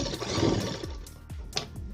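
Sewing machine stitching along a fabric edge for a neck design, a fast whirring run followed by short stop-start bursts of needle clatter, close and alone.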